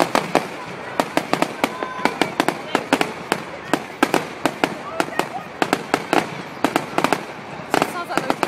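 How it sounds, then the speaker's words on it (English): Bonfire Night fireworks explode at Nottingham Recreation Ground in a rapid, irregular stream of sharp bangs and crackles, heard from a distance over constant crowd murmur and people talking. "Filming fireworks."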